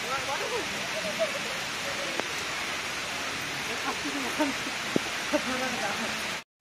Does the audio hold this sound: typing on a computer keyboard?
no